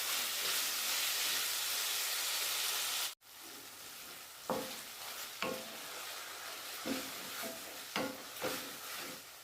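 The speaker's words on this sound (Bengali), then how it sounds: "টমেটো যতক্ষণ না গলা গলা হবে ততক্ষণ আমি এটা ভাজতে থাকবো।" Tomatoes frying in a pan for dhaba-style matar paneer: a loud hiss that cuts off abruptly, then a softer simmering sizzle punctuated by several sharp stirring scrapes and sputters.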